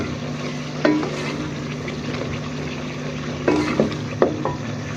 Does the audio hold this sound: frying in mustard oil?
yes